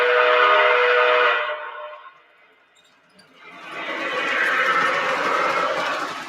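A model steam locomotive running in reverse over a switch, giving a steady, loud whirring hiss with no chuffing beats; it fades to near silence midway, then returns as a broader, noisier rush.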